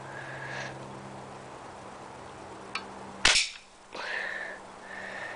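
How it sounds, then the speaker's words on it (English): A single sharp crack from a Daisy Grizzly pellet rifle firing one shot, loud and close against quiet background hiss, with faint whistling tones before and after. "fire on my Grizzle Daisy pellet rifle gun. And here it is firing."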